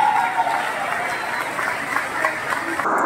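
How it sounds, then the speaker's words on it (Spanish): An audience at a stand-up comedy show in Villavicencio claps and cheers in continuous, dense applause that stays loud and steady throughout. "Un aplauso para ustedes, mi gente."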